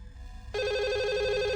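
Telephone in a Chinese funeral horror video game begins ringing abruptly after a moment of low background hum, a steady electronic bell tone holding loud and unbroken to the end.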